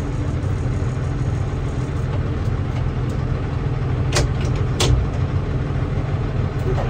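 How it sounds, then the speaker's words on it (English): A tractor engine idles steadily while it cools down after field mowing, a continuous low running drone with a couple of brief sharper clicks partway through. "we'll let this tractor cool out for a few minutes before I shut it off, because it's actually getting kind of hot"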